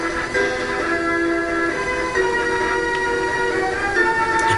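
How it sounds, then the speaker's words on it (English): A train in the 007 GoldenEye video game gives a steady, loud rumbling drone with sustained tonal hums that shift slightly in pitch, alone without speech. "There's the train, so it looks like we gotta go this way."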